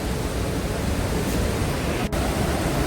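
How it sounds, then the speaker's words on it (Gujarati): Girmal waterfall on the Gira river dropping between hills, a dense continuous roar of falling water, loud and steady with one brief dropout near the end, no talking. "waterfall guys waterfall"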